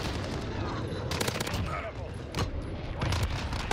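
Rapid bursts of Vector submachine gun fire from the Modern Warfare video game, dense rattling volleys that come and go over a loud background, with someone talking over them.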